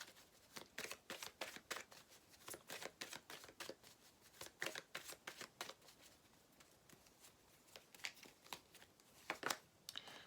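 Tarot cards handled, shuffled and drawn for a reading, giving a steady run of soft riffling flicks and slaps close by, with no talking.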